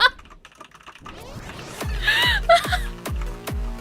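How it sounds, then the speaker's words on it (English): Computer keyboard keys hammered rapidly and repeatedly during a fan-made game session, loud close clatter with heavy thumps, alongside gasps and vocal noises. "I'm spamming all sorts of keys."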